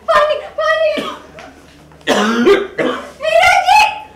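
A man coughs in repeated harsh, raspy bursts, close and loud, in several clusters separated by brief pauses.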